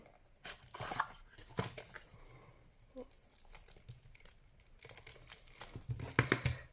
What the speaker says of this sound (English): hate this kind of cellophane stuff